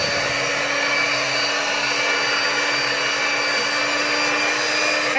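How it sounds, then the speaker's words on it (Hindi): Electric hand beater churning cream in a bowl to make homemade butter and ghee, a steady continuous motor whir with no pauses, close and fairly loud, with no talking. "इसके अंदर अब आप अच्छे तरीके से इसको बीटर को चलाएंगे।"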